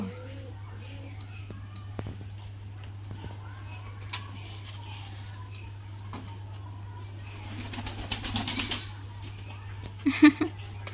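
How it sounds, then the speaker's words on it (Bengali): Pigeons at a rural home coo softly and repeatedly over a steady hum, with a burst of flapping wings near the end and people talking in the background. "দেখো কবুতরে কবুতরে কি করতেছে"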